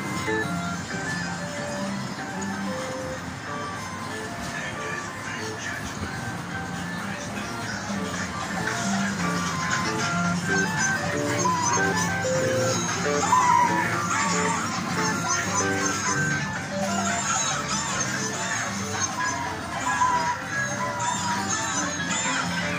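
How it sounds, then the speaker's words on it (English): A Bell Fruit Noddy kiddie ride at Harts Amusements in Blackpool plays its electronic tune continuously and fairly loud in an arcade, with background murmur and noise running underneath throughout. "And that was the Noddy Kiddie ride by Belfruit, sighted at Harts Amusements in Blackpool."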